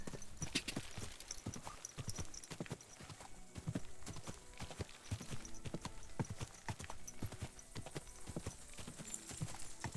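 Horse hooves clip-clop steadily in Kingdom Come: Deliverance II, a continuous, even rhythm of close, moderately loud footfalls on hard ground running throughout.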